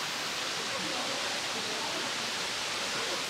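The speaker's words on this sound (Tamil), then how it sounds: "உள்ளே நுழையும் போது என்ட்ரன்ஸ்லேயே பார்த்தீங்கன்னா ஆர்டிஃபிஷியலாக ஒரு வாட்டர் ஃபால்ஸ் ரெடி பண்ணி வச்சுருக்காங்க" An artificial indoor waterfall at the entrance of the Dubai Mall gives a loud, even, unbroken hiss of falling water, close by, with no clear talk over it.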